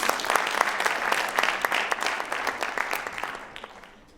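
An audience at a spelling bee prize ceremony applauds a third-place winner with dense, steady clapping that gradually fades out near the end.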